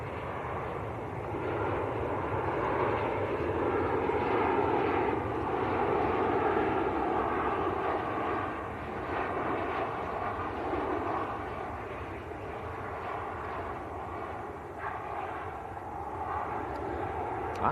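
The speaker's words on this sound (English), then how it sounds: "Next to land is another Maltese registered Ryanair 9HQCB." A Maltese-registered Ryanair jet landing at Manchester Airport, arriving from near Paris, gives a steady broad engine roar that holds fairly loud and even throughout, with no voices over it.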